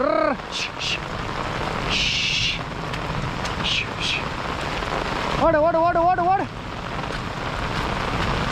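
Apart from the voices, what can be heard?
heavy rain with thunder during hailstorm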